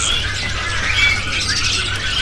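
Hong Kong white-eye birds for sale at a bird market give rapid high-pitched chirps and twittering calls over a busy background of many other birds and low market noise.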